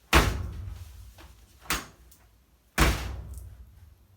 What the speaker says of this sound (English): Okay, door should close nice.